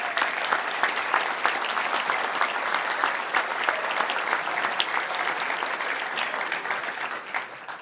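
Audience applause at a Little Rock Touchdown Club luncheon, a steady, moderately loud wash of clapping from a seated crowd lasting several seconds and tapering slightly at the end.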